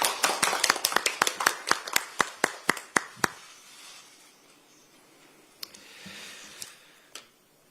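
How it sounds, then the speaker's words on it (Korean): An audience at a Democratic Party recruitment ceremony welcomes a speaker with clapping that begins as a brisk run of sharp, separate claps, slows and thins out after a few seconds, then leaves a few faint scattered taps in a quiet room. "먼저 하정우 전 수석비서관을 큰 박수로 맞이해 주시기 바랍니다"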